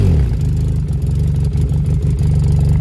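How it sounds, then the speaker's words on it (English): A motorcycle with an aftermarket exhaust idles with a steady low throb, then takes a light rev that swells briefly and settles back, close and loud. "I'm gonna give it a light rev for you"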